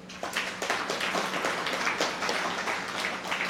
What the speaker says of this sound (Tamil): இந்த சிவாச்சாரியாருக்கு ஒரு கைத்தட்டு கொடுங்க